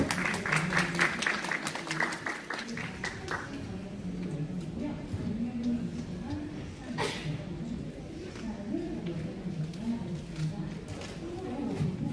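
An audience applauds to welcome a lecturer at a design product conference talk at a Seoul sourcing fair. A short burst of crisp clapping fades within a few seconds, followed by room murmur and someone speaking.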